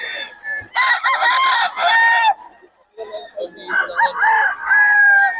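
A bullstag gamefowl rooster crowing loudly and close, two long strained crows separated by a brief pause, with some clucking around them.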